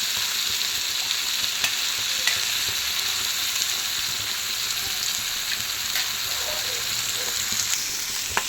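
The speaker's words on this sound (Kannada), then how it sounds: "ಈಗ ಜೋರಿಟ್ಟು ಎಲ್ಲ ಮಿಕ್ಸ್ ಮಾಡೋಣ" Prawns frying on high heat in oil, a loud continuous sizzle with scattered sharp clicks and scrapes as they are stirred and mixed, heard close up without speech.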